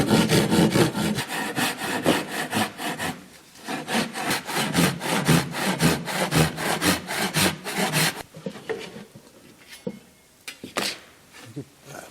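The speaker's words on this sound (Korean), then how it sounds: "톱질을 하겠습니다" Steady rhythmic hand sawing through a wooden box to cut off its lid, traditional Korean furniture joinery work, a fast back-and-forth stroke pattern for about eight seconds, then pauses with scattered knocks and a few lighter strokes.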